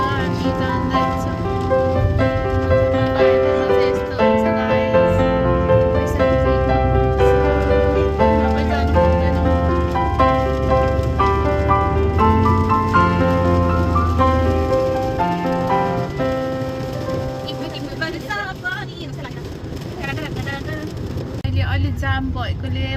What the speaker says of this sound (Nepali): अहिले चाहिँ अलिक धेरै पानी पर्यो अघि भन्दा